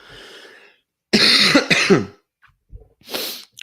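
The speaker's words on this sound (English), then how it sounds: "I'm sorry, I'm coughing still." One person coughs several times in quick, harsh bursts, close and loud, followed by a short breathy pause and a final cough.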